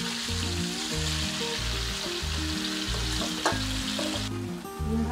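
Eggs frying in hot oil for a homemade egg korma give off a steady, close sizzle that runs without a break beneath rhythmic background music.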